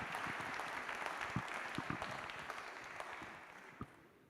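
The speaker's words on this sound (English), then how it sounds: "Everyone give Pat another round of applause." Audience applause for a speaker at a web performance conference, a fairly faint, continuous patter of clapping with a few sharper individual claps standing out, gradually fading toward the end.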